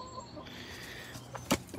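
Chickens cluck softly in a backyard coop, a few quiet calls over low background hiss, with one brief sharper squawk near the end.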